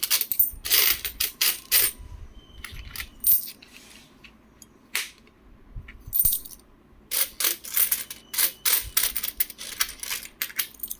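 2018 Mumbai Mint ten-rupee coins clink and jingle as they are handled up close, coming in bright metallic bursts with short pauses between and no talking.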